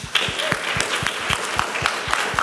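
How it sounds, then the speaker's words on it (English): An audience at a public realm roundtable in New York City claps steadily for several seconds, a moderate scattered round of applause without cheering. "let's have a round of applause for everybody who's spoken"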